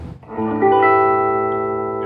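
Electric guitar through a 1963 Gibson Falcon GA-19RVT amp with reverb on, a single loud sustained note ringing out with a reverberant tail.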